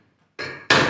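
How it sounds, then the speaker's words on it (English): Two sharp metallic strikes in quick succession, the second louder, as a hammer hits a cold chisel against a 1985 BMW 635 CSI's body metal after a moment of near silence. "And then cold chisel and a hammer."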